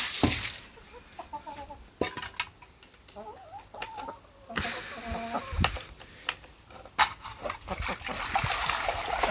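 Chickens clucking in a coop on a hot afternoon while their water is replaced, with splashing and trickling water, scattered clucks and sharp knocks at close range.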